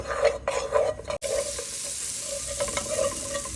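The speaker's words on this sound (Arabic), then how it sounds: "شوف الزبدة كبيرة بتحطوها قلب طنجرة وتنطروها لحتى تذوب" Butter melts in a large pot, giving a steady soft sizzle with light stirring scrapes throughout, close and moderately loud, with a brief dropout partway.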